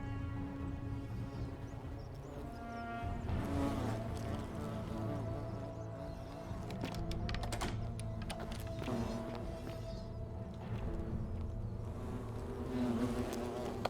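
Bees swarm around a hive in the video game The Forgotten City, a continuous dense buzzing drone with individual insects droning past, loud and close, no talking.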